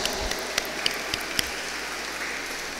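A school annual day audience claps for students from classes 5 and 6. The applause is steady and fairly distant, with a few sharper claps standing out over an even wash of hand noise.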